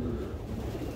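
Pigeons coo in a hot summer loft in Dubai, a steady low murmur of overlapping coos that fills the space at moderate volume without pause, and no one speaks.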